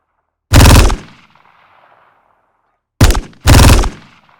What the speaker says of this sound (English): This is what the gun sounds like